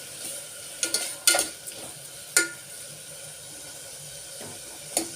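Onions frying in a ghee and oil mixture give a soft steady sizzle, with a few sharp clinks and stirring scrapes of a spoon against the pan standing out near and loud.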